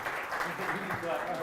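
An audience at a conference talk applauds briefly, a soft, dense patter of clapping that sounds somewhat distant and continuous over its short span.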